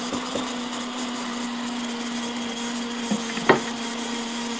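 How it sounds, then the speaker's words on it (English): A Ninja blender churns frozen fruit for a smoothie bowl with a loud, steady motor whir and a constant hum, broken by occasional knocks and rattles as the hard chunks hit the blades. "So on my blender, I'm gonna push high alert"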